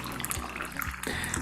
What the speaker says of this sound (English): we're gonna go ahead and press all of the loose leaf down to the bottom, and we'll pour a glass